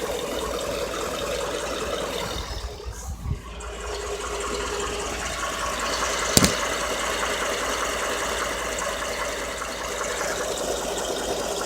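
A 2014 Ford F-150 with the 5.0 Coyote V8 idles steadily at close range, a continuous low rumble with a faint ticking valve tap, broken by a brief dip and one sharp click partway through; no voices.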